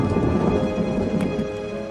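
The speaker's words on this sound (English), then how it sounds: "Rain not only slows down Teoman's schedule, it also soaks an already wet building." Rain pours steadily onto an ancient Roman bath building, a dense, even hiss of falling water with a faint low rumble underneath.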